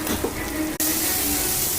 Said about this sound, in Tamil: தேவையான அளவு தண்ணி ஊற்றிக்கணும்